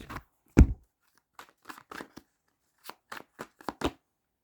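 A tarot card deck being shuffled by hand in a series of short, crisp riffles and taps, close and otherwise quiet.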